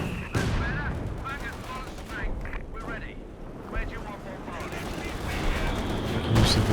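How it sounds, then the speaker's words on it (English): A mortar barrage in the video game Company of Heroes 2 sends repeated explosive impacts and gunfire-like bursts crashing through the battle mix, moderately loud and spread across the whole stretch. "Use of the regular mortar barrage here."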